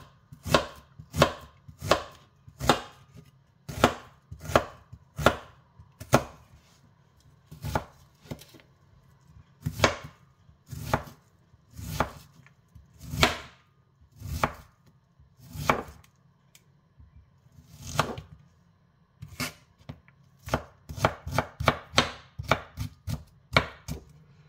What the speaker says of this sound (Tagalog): Para pino yung paghiwa natin ng sibuyas.